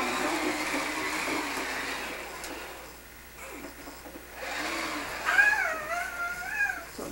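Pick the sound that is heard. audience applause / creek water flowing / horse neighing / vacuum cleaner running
vacuum cleaner running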